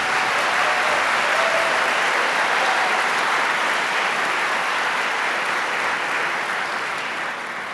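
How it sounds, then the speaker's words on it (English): A graduation ceremony crowd applauds a brass ensemble, producing a steady, full roar of many clapping hands that holds for several seconds and then tapers gently, with no speech on top. "I think they deserve a round of applause"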